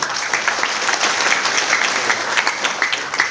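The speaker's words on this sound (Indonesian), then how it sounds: "Aplaus buat PT BES dulu dong." A seated audience claps at a business presentation for a direct-sales company, giving dense, sustained, loud applause from many hands that holds steady throughout without pause.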